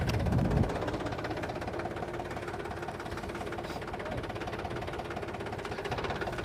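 A tractor fitted with oversized monster tyres turns with its engine chugging at a low, steady idle-like throb; a brief louder knock at the start, then continuous rumble.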